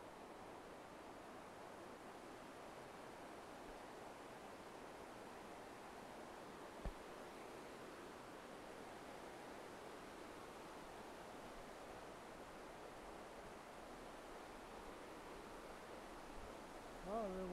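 Creek water rushing steadily along a hiking trail in Jim Thorpe, Pennsylvania, a continuous broadband wash that stays even throughout, with a brief voice near the end.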